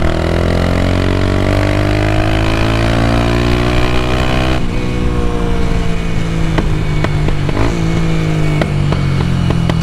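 A Tutu motorcycle accelerating hard toward top speed on a race track, its engine pitch climbing steadily, shifting once, then climbing again, loud and close throughout.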